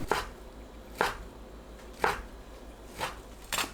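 A knife cuts fish cake into 0.7 cm pieces on a cutting board, giving four evenly spaced, soft thuds about one second apart, close but faint, with no voices.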